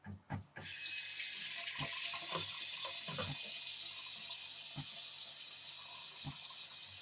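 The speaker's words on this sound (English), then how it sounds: "you should wash the stung area in water and soap to scrape off any venom that might be on the surface" Running tap water in a sink while a sting is washed with soap, a steady close hiss of flowing water that starts after a few knocks, with occasional soft bumps and handling sounds and no talk.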